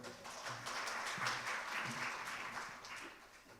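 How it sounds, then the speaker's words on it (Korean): Seminar audience claps to welcome a real-estate lecturer to the stage, a soft, steady round of applause heard from a distance without speech. "역시나 박수로 맞이해 주시기 바랍니다"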